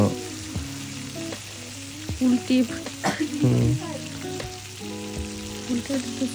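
Hilsa fish pieces fry in hot mustard oil, a steady close sizzle with occasional spatters and the clink of a utensil turning the fish.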